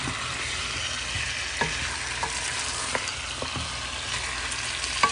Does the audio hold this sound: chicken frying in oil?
yes